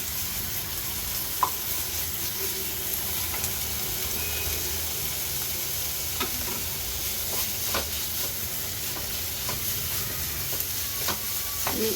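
Ginger garlic paste and green chilies sizzle and hiss in a hot pan for egg rice, a steady close frying crackle with occasional scrapes of stirring and no talk.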